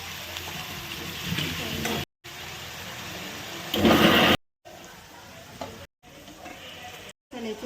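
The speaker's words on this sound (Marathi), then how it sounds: "पनीर फ्राय करत आहे" Cut paneer cubes fry in a pan with a steady, loud sizzling hiss that swells louder near the end, broken by several brief silent gaps.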